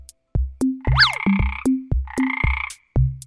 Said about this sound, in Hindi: बाहर बैठे मेंढक जोर जोर से शोर मचाने लगे